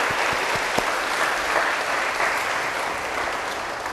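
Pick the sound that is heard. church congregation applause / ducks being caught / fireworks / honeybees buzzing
church congregation applause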